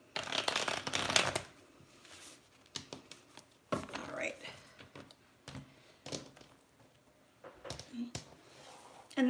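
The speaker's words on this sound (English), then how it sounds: "Just shuffle all these cards really good." A deck of tarot cards is shuffled repeatedly up close, with quick riffling bursts and soft taps separated by short pauses.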